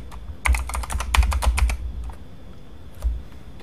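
Typing on a computer keyboard while setting up a Raspberry Pi: a quick, close burst of key clicks, then a pause and a couple of isolated keystrokes, with no voices.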